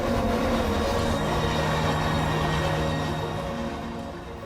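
A train of Indian Railways rumbles along the rails with a steady roar, then fades toward the end.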